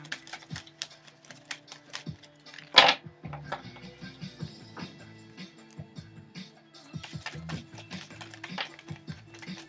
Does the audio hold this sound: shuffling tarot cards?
yes